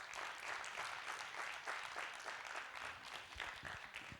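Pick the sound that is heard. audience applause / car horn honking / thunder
audience applause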